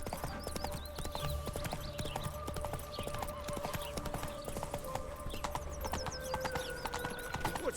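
Roach the horse's hooves clip-clop in The Witcher 3, a steady, close rhythm of hoofbeats over an ambient game-world hum. A brief whinny and other faint game sounds come through at a low overall level.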